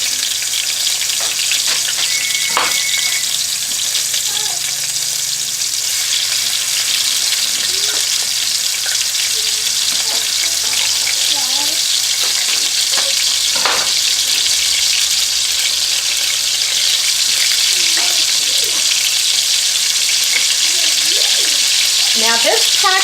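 Chicken and bacon fry in a pan with a steady, loud broadband sizzle throughout, with occasional faint clinks of cookware and a brief low hum.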